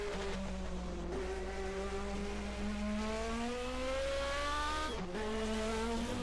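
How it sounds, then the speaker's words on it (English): A 1980 DRM Division 2 race car's turbocharger whistles and whines in rising tones as the engine climbs an uphill section at the Eifelrennen, with a loud continuous engine drone and gear changes. "You can hear the turbocharger there like a soda pop machine"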